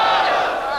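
A large crowd at a Muharram majlis in Mirpur, Azad Kashmir, shouting a slogan response together, a loud, sustained unified roar of many voices lasting under a second.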